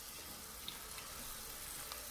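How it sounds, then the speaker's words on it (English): Water is poured into a container holding croaker fish, giving a steady, faint hiss and splash that runs throughout without pause. "And I'm going to add water into this one"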